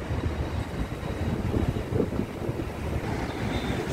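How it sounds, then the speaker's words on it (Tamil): Strong wind blows near Marina Beach, a continuous rough roar buffeting the microphone, loud and steady with no talking. "ஸோ நல்லா காற்றடிக்குது."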